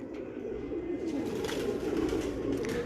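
Breeder pigeons of the 40 number (tasveer wale) breed coo softly and continuously, a low murmuring burble with faint rustling in the background.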